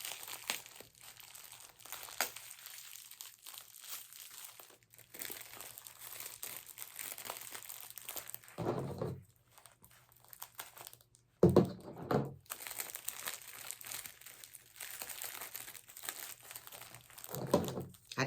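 Tape and plastic wrapping pulled off sphagnum-moss-bound roots of a rare hoya: quiet, close crinkling and rustling with occasional crisp tearing bursts, broken by brief pauses.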